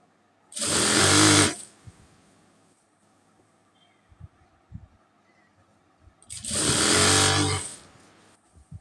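A sewing machine stitches a nighty in two loud, fast whirring bursts of about a second each, separated by a quiet gap with a few soft clicks and knocks.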